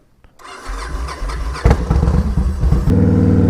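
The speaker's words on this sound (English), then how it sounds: "This bike's fucking loud." A Victory Kingpin motorcycle firing up and pulling away, the loud engine rumble building into revving and acceleration close by, with wind buffeting on the ride.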